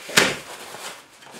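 A cardboard box being flipped back over gives one sharp, fairly loud thump and rustle at the start, then a softer shuffling that fades out, with no voices.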